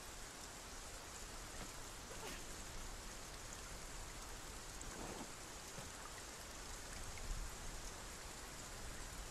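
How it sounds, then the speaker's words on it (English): Very light rain falls steadily in the video game Dragon's Dogma 2, a soft, even hiss of drops spread across the whole stretch with no thunder and no voices. "Yeah, it's very, very light rain."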